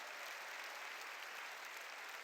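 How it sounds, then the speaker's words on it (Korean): A church congregation at a Korean worship service claps steadily in a dense, even wash of applause, fairly distant and quiet, with no voices over it. "만사가 형통되는 걸 믿으면 박수 치라."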